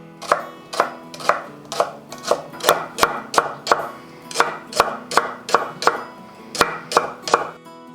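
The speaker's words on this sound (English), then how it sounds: "So it's just going to be a lot of chopping for a while." Knife chopping freshly harvested market-garden rhubarb for rhubarb butter: steady, rapid strokes on a board, about two per second, close and crisp, continuing without pause and with no talking.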